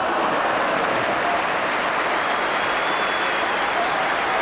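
Football crowd at a Norwich City versus Liverpool match, a broad steady wash of applause and crowd noise from both sets of fans, continuous and fairly loud.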